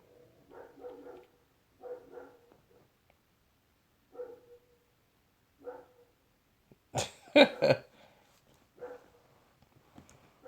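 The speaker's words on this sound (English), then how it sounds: "This dog driving me crazy." A dog barks in a few separate bursts spread across the clip, with a louder cluster of sharp barks near the end. No one talks over it.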